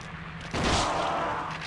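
A twelve-gauge shotgun fires in the survival horror game Silent Hill 2, a single sudden loud blast that rings and decays over the following second.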